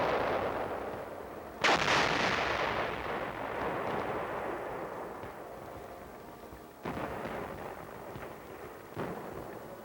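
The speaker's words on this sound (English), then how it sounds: "there's plenty of ammunition here to keep this big gun firing" A big artillery gun fires on the Korean front in winter, giving a heavy booming blast with a long rumbling roll. Further distant booms follow.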